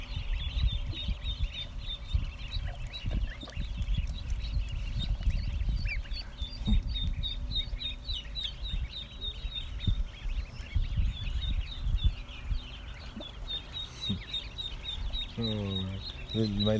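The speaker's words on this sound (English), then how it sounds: "little pet ducks." Small pet ducks and chickens calling outdoors, repeated quacks and clucks scattered through a steady backyard din, with a person talking at times underneath.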